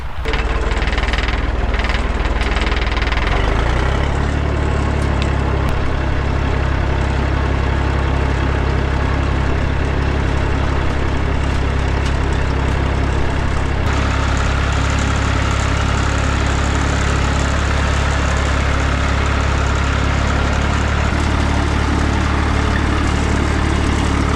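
A tractor engine runs close by in a farm field during barley sowing, a loud, continuous low rumble and knock that holds steady throughout with no talk.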